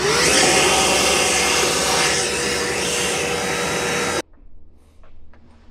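A vacuum cleaner sucks debris out of an electrical panel during a NEMA 14-50 outlet install, a loud, steady broadband whine running for about four seconds before cutting off abruptly, leaving quiet handling noises.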